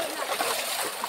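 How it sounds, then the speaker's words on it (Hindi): Water in a small river near a waterfall in Assam rushes and splashes with a steady broadband hiss, close and continuous for a brief moment. "यहाँ पर एक छोटा सा नदी है, यहाँ पर पानी बह रहा है"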